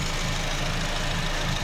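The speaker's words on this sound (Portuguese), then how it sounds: "motor funcionando redondinho" Honda Type R engine idling with a punctured exhaust, a steady close low rumble with a faint rhythmic throb and slight raspy pulsing throughout.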